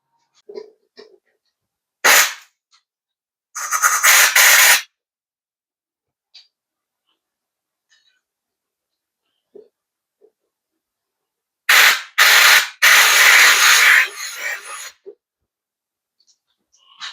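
A Briggs & Stratton lawn mower engine, ignition coil disconnected, turned over by spinning its blade by hand, giving several short whooshing, rasping bursts separated by quiet pauses, with no talking.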